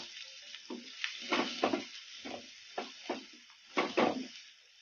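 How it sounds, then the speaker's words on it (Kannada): Onions fry on a medium flame for kabuli chana, giving a soft background sizzle broken by a series of irregular stirring scrapes and spatters, quiet and close. "ಇವನ್ನೆಲ್ಲ ಮೀಡಿಯಂ ಫ್ಲೇಮಲ್ಲೇ ಫ್ರೈ ಮಾಡ್ಕೋಬೇಕು"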